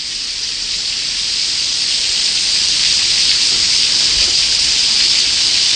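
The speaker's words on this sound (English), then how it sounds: "It's raining here today, guys." Steady, loud rain pours down as a dense, even hiss with no breaks and no voices.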